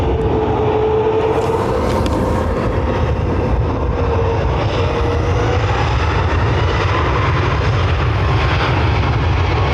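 An airliner taking off from runway 10R at Dublin Airport, a loud continuous jet engine roar with a steady rumble and a faint rising whine, heard from a distance outdoors.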